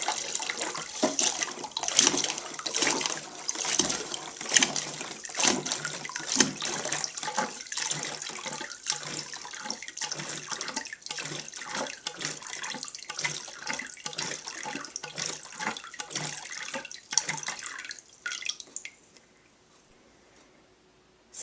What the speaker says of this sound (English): So I got all the water drained out